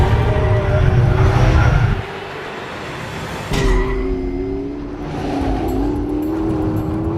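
A McLaren P1 of about 900 horsepower in race mode with traction control off accelerates hard on a damp track, its engine note loud and steady, then dropping briefly before rising again into a climbing, rasping pull.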